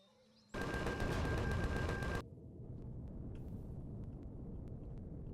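Rapid automatic gunfire from a weapon in the sci-fi survival game Empyrion, one loud dense burst of close shots lasting under two seconds, then dropping to a steady low ambient rumble with faint ticks.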